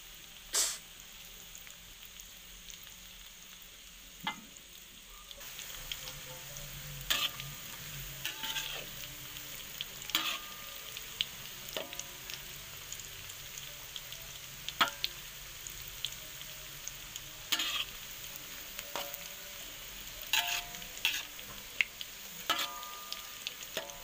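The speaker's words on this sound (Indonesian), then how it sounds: "saya mau goreng dulu ini tempenya digoreng" Tempeh fries in hot oil with a constant crackling sizzle, sharp pops and spits scattered throughout, close and steady with no voices.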